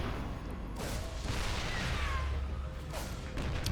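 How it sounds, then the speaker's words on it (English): Siege tank volley in StarCraft 2: a cluster of heavy booming shots with whooshing impacts over dense, continuous battle noise, loud and close, running steadily for several seconds. "Oof, massive tank shot. Massive tank volley."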